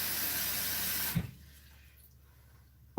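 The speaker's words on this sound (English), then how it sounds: "I'm going to be getting some water" Water gushing from a tap for making herbal tea, a loud steady stream that stops abruptly after about a second, followed by quiet room tone and a small click.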